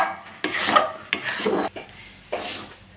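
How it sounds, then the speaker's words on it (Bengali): Spices being ground into powder by hand for a Gobinda Bhog rice and milk sweet, heard as several close, loud rasping rubbing strokes with short gaps between them. "মশলাটা গুঁড়ো করে নেব"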